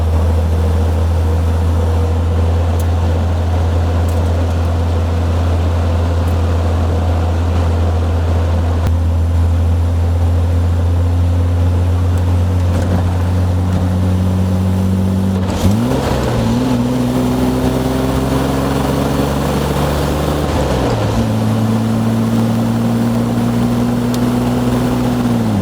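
Inside a 1960 Austin Healey 3000 MKI with factory hardtop and no side screens, cruising in overdrive fourth: a loud, steady engine drone with strong wind rush, the pitch shifting as the car changes speed.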